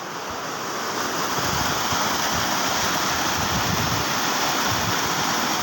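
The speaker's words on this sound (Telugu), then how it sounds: "భోగేశ్వరం గుడి వెనకాల వాటర్ ఫాల్ చూడండి" Steady, loud rush of a waterfall behind Bhogeswaram temple, a continuous broadband roar that holds constant throughout with no voices.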